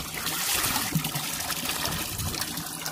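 Water trickles steadily and close by in a rural yard pool or bath where a boy sometimes jumps in, a continuous soft splashing flow with faint background sounds and no clear talk.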